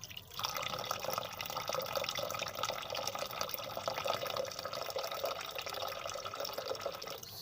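Water pours into a container of fermented grain being rinsed for akamu, ogi or pap, a steady splashing and trickling stream that runs continuously at close range without speech.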